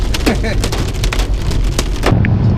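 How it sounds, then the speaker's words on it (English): Hail drums on a car driving through a hailstorm while storm chasing in Nebraska, a dense, loud rattle of impacts with sharp louder hits scattered throughout and a low road rumble underneath. "Driving through the hailstorm"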